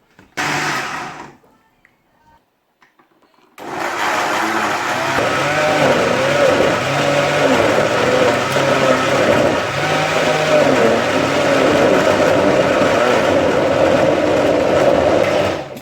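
A blender grinds chili sauce ingredients with a little water into a spicy chutney paste, starting with a short burst, a pause of near silence, then a loud, continuous whirring motor roar that churns steadily to the end.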